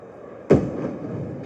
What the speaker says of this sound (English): Fourth Officer Boxhall and Quartermaster Rowe fire the first of 8 distress rockets from the starboard wing of the bridge